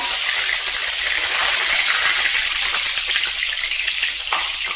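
Tempering of cumin and mustard seeds dropped into hot oil in a kadhai on a gas stove, a loud, close, continuous crackling sizzle with sharp popping spatters throughout.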